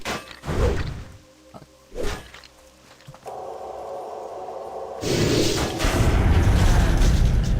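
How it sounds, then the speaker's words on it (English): Paladin Exorcism spell effect in World of Warcraft Classic: sharp whooshing hits and thuds at the start, then a sustained crackling, roaring magical burst that swells and stays loud among in-game combat sounds. "the sound effect on Exorcism is really bad"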